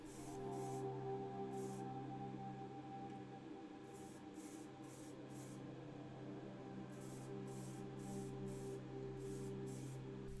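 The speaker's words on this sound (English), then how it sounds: "I use Motip 1K Grey Automotive Primer to give the model a first coat." Bursts of spray from a can of Motip grey 1K automotive primer hiss over a diecast Matchbox Jaguar E-Type in short repeated passes, faint and close, against a low steady background hum.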